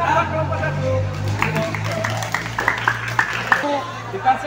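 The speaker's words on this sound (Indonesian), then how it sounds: "tepuk tangan buat kelompok satu" Students in a school PE class clap for group one, a scattered burst of claps rising over ongoing crowd chatter and speech, fairly close and moderately loud.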